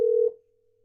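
A single steady phone tone from an outgoing call plays loud and clear for about a quarter second, then cuts off and lingers faintly.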